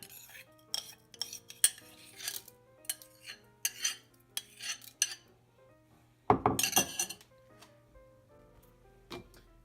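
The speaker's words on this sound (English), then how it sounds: "we're going to put our rice into our container. My container is just a mason jar" Rice grains go into a glass mason jar in a series of short, bright clinks and rattles, sparse and close at first, then a louder burst of dense pouring rattle before a few final taps.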